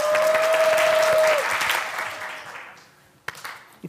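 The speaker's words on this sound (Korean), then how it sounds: "짜장면 박수." A group performs the Korean jajangmyeon clap, a rhythmic clapping routine, dense loud applause-like clapping with a sustained tone at the start, then fading out, followed by a few isolated claps.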